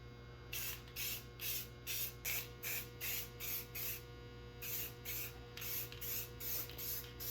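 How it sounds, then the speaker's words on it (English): Clear coat is sprayed onto cylinders in a series of short hissing bursts, about a dozen evenly paced blasts with brief gaps, close but fairly quiet over a low steady hum, and no talking. "now do what I really wanted to do this whole time, which was clear coat the cylinders"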